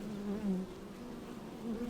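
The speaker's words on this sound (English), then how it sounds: "A hive has only one small entrance, where the bees come and go." A steady low buzzing hum of many honey bees at a backyard hive entrance, droning continuously at moderate volume with slight swells, no voices present.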